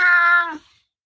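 A cat's single short meow, clear and close, fading out within half a second into silence.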